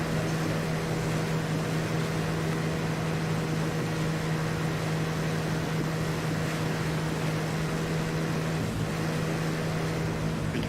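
Boat engines in the ArmA 3 video game drone steadily and loudly with a deep, constant hum that never lets up, like sitting aboard a landing craft under way.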